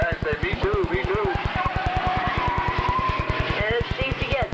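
Race car spinning out at Kings Park Speedway, its engine pulsing in a steady rapid rhythm with tire squeal and skidding, loud and close, under a commentator's talk.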